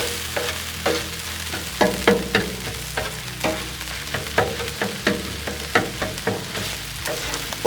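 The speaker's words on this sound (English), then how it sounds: "Come over here and stir our meat up just a little bit." Hamburger meat stirred on a Blackstone griddle, a steady sizzle with regular scraping strokes of a spatula repeating roughly every half second, close and alone.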